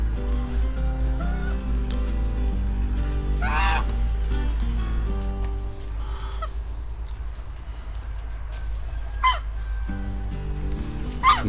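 Geese honking near a makeshift coop built from second-hand corrugated metal, several loud calls standing out above a steady low hum, with no talk.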